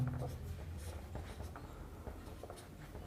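Faint, soft scratching of writing during a Class 12 maths lesson on probability, with intermittent light strokes over a low, steady room hum and no speech.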